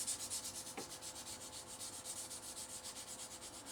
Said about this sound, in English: wet sand.